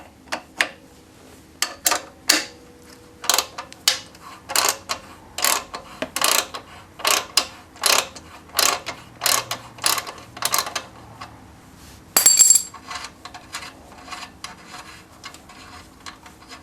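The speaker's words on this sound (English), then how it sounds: "we're going to remove the nut that's holding the muffler onto the mount" A 14mm wrench works loose the nut holding a Kawasaki Concours 14 motorcycle muffler onto its mount, producing a close series of sharp ratcheting clicks in short irregular bursts, with brief pauses between strokes and no talking.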